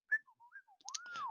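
A short, melodic whistled phrase on a video call: a few separate gliding notes, then a longer rising-and-falling tone, heard alone and fairly faint.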